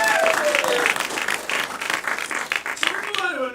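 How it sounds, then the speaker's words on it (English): Audience clapping at a live game-show style event, a short burst of applause with voices and cheering mixed in, fading toward the end as someone speaks. "Clap for them again, everyone."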